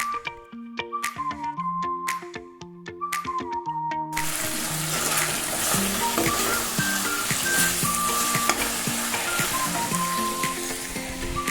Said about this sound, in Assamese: এতিয়া লাই শাক আৰু ভোট জলকীয়াৰ লগত মাংসখিনি অলপ সময় মই ভাজি থাকিম